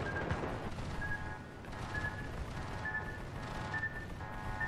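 Battleship main guns firing in the naval game World of Warships, a US Colorado-class battleship engaging an enemy Fuso, heard as dense, continuous rumbling gunfire and explosions with recurring tonal whines from the game, with no talking.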